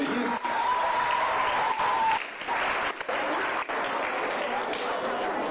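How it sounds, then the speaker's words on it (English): Audience applause at a primary school annual awards ceremony: sustained clapping from a crowd, steady throughout with a few brief dips, while a voice speaks over it. "Give our students another round of applause"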